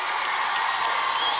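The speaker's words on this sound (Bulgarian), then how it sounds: "Още веднъж да ви чуем колко силно може да аплодирате за Богомил." A talent show audience keeps up steady, dense applause for a singer, with a broad wash of clapping at even loudness throughout and no clear voices on top.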